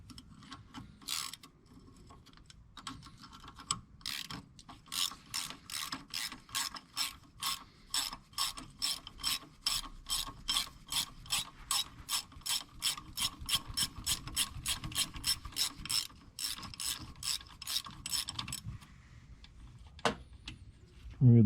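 A hand ratchet working a bolt on a Porsche 944 belt tensioner gives a long run of steady, evenly spaced clicks, close and crisp, with a few slower clicks at the start.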